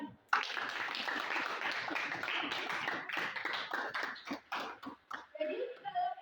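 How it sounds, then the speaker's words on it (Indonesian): Classroom applause for a student, a burst of quick, fairly close clapping from a group of students that fades out, followed by a short stretch of talking. "Beri aplaus untuk kawanmu"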